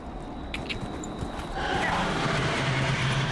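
Horse hooves in the video game Dragon Age Inquisition, a quick run of clip-clop beats near the start before a broad rushing wash of game ambience takes over, moderately loud.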